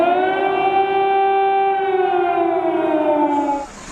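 An air-raid siren wails over Kyiv during the Russian assault, a single loud, sustained, steady tone that drops away at the end.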